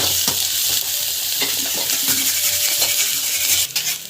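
Spices with turmeric powder are sautéed in a pan: a loud, dense sizzle runs throughout while a utensil scrapes and taps against the metal in irregular strokes, with a sharper clatter near the end.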